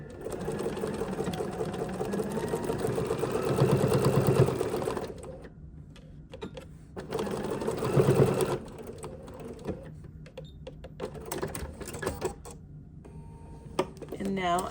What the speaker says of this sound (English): I'm just gonna turn it over and double stitch this.